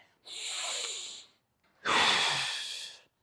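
Two long, exaggerated deep breaths for running practice, a drawn-out breathy inhale then a louder exhale after a short pause, close and alone.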